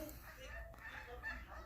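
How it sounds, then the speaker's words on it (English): Geese honking nearby in a garden in August, their calls rising intermittently over steady outdoor background while a person talks. "the geese."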